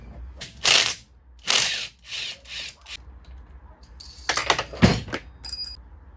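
Hand ratchet loosening cylinder head bolts during a billet head upgrade, heard as several separate bursts of rapid clicking, close and fairly loud, with short pauses between the strokes.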